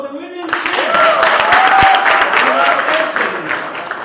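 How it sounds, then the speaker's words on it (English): Students and guests at an interschool student-led debate competition clap for the winners, dense clapping mixed with high cheering voices. "So you clap for the winning."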